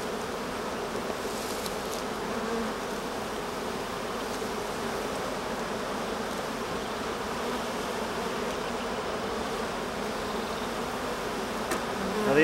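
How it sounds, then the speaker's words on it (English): Honeybees buzz at the hive entrance in a dense, steady, continuous drone. The swarm sounds close and evenly loud throughout. "these bees that are piling up in front here are probably bees that have been out collecting honey"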